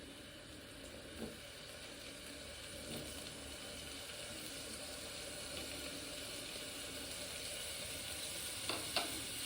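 Large-cut onions fry in a pan for beef masala, a steady soft sizzle running throughout with a few faint stirring clinks near the start and end.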